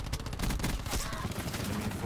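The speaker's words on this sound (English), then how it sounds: "Those sentry turrets." Rapid, dense bursts of automatic fire from sentry turrets in Call of Duty Black Ops 4 multiplayer rattle on without pause, loud and close for about two seconds.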